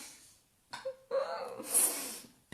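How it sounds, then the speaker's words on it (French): A dog snoring and snorting indoors, a few short, close breathy snorts and rasping breaths coming in uneven bursts. "Mon chien il ronfle"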